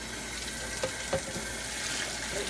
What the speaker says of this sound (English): Now I'm going to go ahead and add water in here.